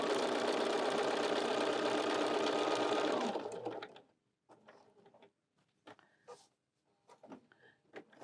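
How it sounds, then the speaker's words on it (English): A sewing machine stitches around Velcro on a folding wallet, a loud, fast, steady mechanical whirr for about three seconds that winds down and stops, followed by faint scattered handling noises. "So now what I'm going to do is sew around the Velcro"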